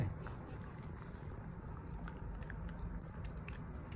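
A dog crunches and chews a Bravecto chewable tick and parasite treatment up close, a steady stream of soft bites and mastication lasting throughout.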